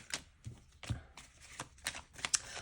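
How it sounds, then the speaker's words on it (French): Tarot cards are shuffled and drawn for a reading, giving a string of soft, quick papery riffles and slaps, close and quiet, in irregular bursts with no talking. "je vais juste tirer 3 cartes pour le général"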